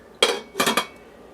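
Rice being served onto a dish in a home kitchen: a utensil clinks and scrapes against the plate in two short clattering bursts, close and fairly soft, with no talking.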